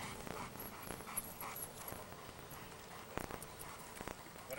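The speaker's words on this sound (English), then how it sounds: "It's a real dog." A real working dog at a French Ring sport training session, heard amid handler activity: scuffling, footsteps and soft dog sounds at moderate distance, with no clear barking.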